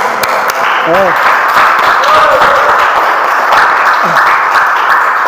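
Applause from a classroom group after a student reads a report aloud, steady dense clapping throughout with voices talking over it.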